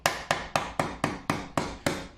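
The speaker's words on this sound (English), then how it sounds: "I'm hitting you with a hammer, but you still gotta stay still." A hammer strikes wood in a steady series of nine sharp, evenly spaced knocks, close and moderately loud, while a shadow box is being built.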